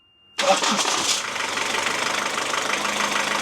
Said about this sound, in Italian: il motore dovrebbe accendersi al primo colpo